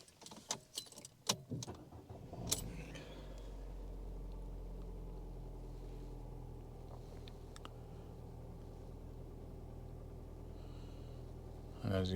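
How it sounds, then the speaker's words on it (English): A Ford Fiesta MK7 1.25 Zetec engine cranks and fires after a few clicks and rattles, then settles into a steady, low idle hum that continues alone to the end. "I'll turn the engine on."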